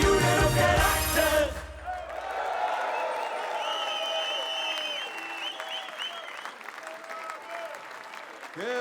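Full audience applause bursts loudly for the winners of the 50th LVK at a carnival song event in the Gouvernement in Maastricht, then drops quickly into a softer murmur of crowd noise and scattered voices.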